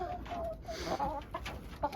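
Brahma chickens in a farm coop during cold weather, giving a short burst of soft clucks and murmuring calls, fairly close and quiet against a low background rumble.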